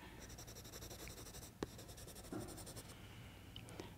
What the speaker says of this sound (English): What can you do with your pencil using both the tip and the side?